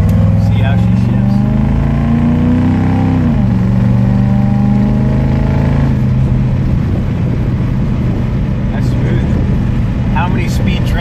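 Car with a three-speed automatic transmission driving, the engine hum climbing and then dropping as it shifts, loud and steady inside the cabin, with people talking over it.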